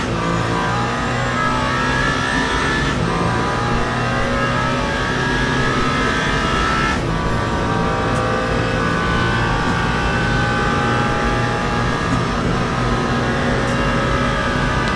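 GT3 race cars, including a Ferrari, in the Le Mans Ultimate simulation at the 24 Hours of Le Mans, with engines droning and revving steadily and loudly throughout, gear changes punctuating the continuous roar.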